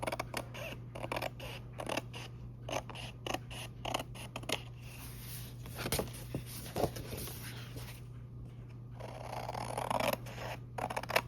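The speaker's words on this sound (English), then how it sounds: "I'll just trim." Scissors trimming oversized junk journal pages: a run of quiet, irregular snips and paper crinkles, close up, over a steady low hum, with no talking.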